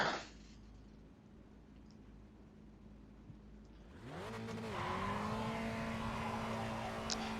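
A Spec Racer Ford race car in iRacing at Summit Point rolls into a pace lap. After a quiet stretch, the engine note swells up and settles into a steady drone.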